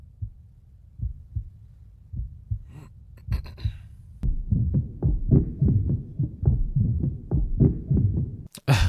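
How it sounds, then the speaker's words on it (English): A steady thumping heartbeat from the animated movie Trolls World Tour, first soft and slow, then louder and more forceful with a pounding double-beat rhythm, closing with a short sharp burst. "Y'all gonna make a whole track off of his heartbeat."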